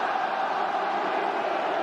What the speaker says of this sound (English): It's got the crowd going.